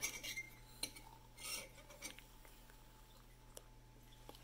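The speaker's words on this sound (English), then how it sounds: "And stir it up." A spoon stirs sugar and cocoa powder in a mug for a chocolate mug cake, giving light metallic clinks and scraping taps against the ceramic. They come in an irregular rhythm, close but fairly faint.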